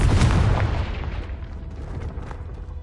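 The Confringo fire spell bursts in Hogwarts Legacy, a loud booming explosion with a crackling roar that decays over about three seconds.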